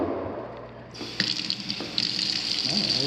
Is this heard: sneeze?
no